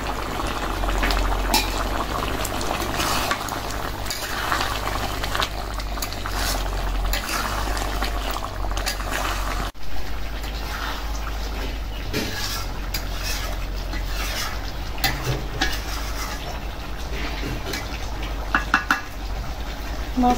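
Fish sizzling and simmering in a pan with chili and ground cumin while being cooked down: a steady, loud bubbling sizzle with occasional stirring and scraping, continuous throughout.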